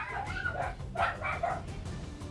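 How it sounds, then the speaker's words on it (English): Dogs yip, bark and whimper faintly in short bursts in the background of a live tabletop role-playing game stream. "Oh, a few gnolls have wandered into the hallway."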